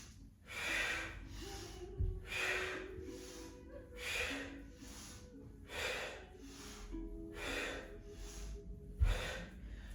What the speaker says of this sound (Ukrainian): І видих складені губи трубочку через рот.